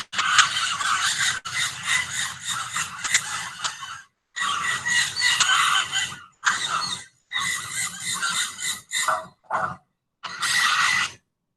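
Flocks of parakeets circling in a large aviary at a bird park, making harsh, shrill squawking in loud bursts broken by short gaps, close and dense, with no voices.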